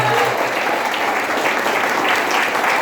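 Congregation in a church breaking into sustained applause, dense and steady clapping filling the room from start to finish with no talk over it.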